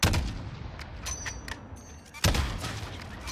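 Bursts of distant gunfire crackle in Call of Duty: Warzone, with a sharp volley at the start and another louder burst near the end over steady low rumble.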